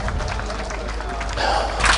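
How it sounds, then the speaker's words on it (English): An audience at a tree-planting campaign event claps together in a steady, dense patter that swells slightly toward the end, with a faint voice mixed in. "A round of applause for them."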